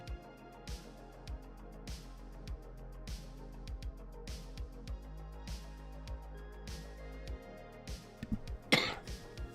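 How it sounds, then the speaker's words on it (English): A person coughs during a drawing livestream, a faint throat sound near the end over a steady low background hum with repeated soft clicks and taps, no talking. "Hold on, guys, I gotta cough"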